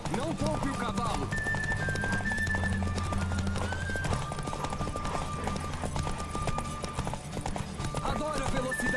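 Horse hooves clip-clop at a gallop in The Witcher 3, a steady rhythmic patter close by, with a whinny and game music and talk layered over it.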